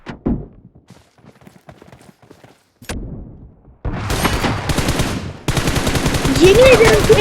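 Rapid automatic gunfire bursts in a shooting video game, starting sparse and quiet then becoming loud, dense continuous fire with booms and thuds, close and intense in the second half.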